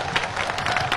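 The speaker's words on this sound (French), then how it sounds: "Applaudissons le peuple haïtien." Large crowd applauding in celebration of the Haitian people at the bicentennial of Haiti's independence, a dense, sustained wash of clapping and cheering from many thousands, steady and loud throughout.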